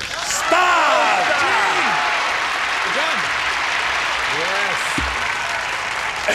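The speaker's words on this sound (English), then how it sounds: "let's give a big round of applause as we say, hello, stars!" Loud, sustained applause from a studio audience on a television show, with whoops and cheers rising over the clapping and a single sharp thud partway through.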